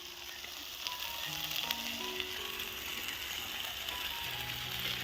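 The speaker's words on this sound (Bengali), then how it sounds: "আমরা চিকেন চাউ রান্না করছি" Chicken chow mein fries in a pan at an outdoor winter picnic, giving a continuous loud hiss with faint tonal sounds in the background and no clear speech.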